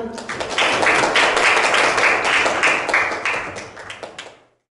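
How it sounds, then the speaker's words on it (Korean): A seminar audience on public-education learning data gives steady, dense applause to welcome a university research institute director. The clapping lasts about four seconds and then stops abruptly. "큰 박수로 맞이해 주시기 바랍니다"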